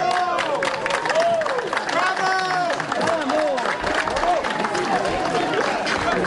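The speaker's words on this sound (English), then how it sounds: "The gathered crowd, first hushed, erupted in spontaneous applause as the young man was taken by ambulance to a French field hospital." A crowd at a rubble rescue site in Haiti bursts into applause and cheering as an earthquake survivor is carried to an ambulance, steady clapping mixed with voices and background commotion throughout.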